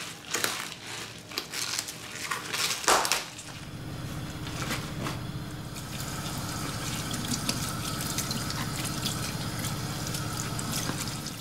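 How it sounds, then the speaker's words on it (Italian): Savoy cabbage leaves are washed under running tap water in a kitchen, with rustling, crinkling leaf handling at first, then a steady close hiss of flowing water. "lavo per bene sotto l'acqua corrente"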